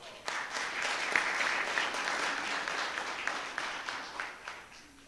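Steady round of applause from the audience at a Georgia county school board meeting, many hands clapping at a moderate distance, holding evenly before thinning out near the end.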